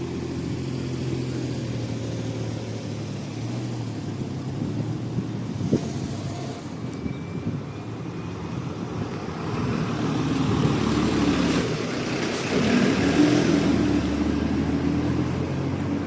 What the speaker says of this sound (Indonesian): Banyak kendaraan mobil ya lalu lalang buat aktivitas.